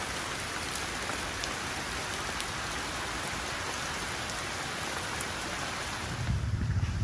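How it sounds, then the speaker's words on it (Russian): Steady, dense tropical rainfall on Ko Lipe island, Thailand, pattering on a surface, continuous and even throughout, with a slight rise in low rumble near the end. "Дождь заставил спрятаться ненадолго"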